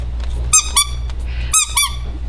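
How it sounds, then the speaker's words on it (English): A small squeaky toy dinosaur is squeezed repeatedly, giving four sharp high squeaks in two quick pairs, close and loud over a steady low hum. "These little guys down here, they squeak."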